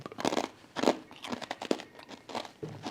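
Crisp, loud crunching bites into a hard, burnt-looking garlic toast snack with a glossy top. Several crackling crunches follow one another close to the mic, with no talk.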